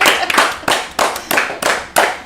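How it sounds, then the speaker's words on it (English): A small group of people gather to celebrate someone, their hand clapping ringing out in a steady rhythm of about seven loud, close claps, with no one speaking. "Are we clapping?"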